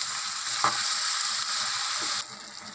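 Bottle gourd pieces with turmeric and salt sizzle steadily in a hot pan while a spoon stirs them, giving a continuous frying hiss with a couple of light scraping strokes; the sizzle drops in level near the end.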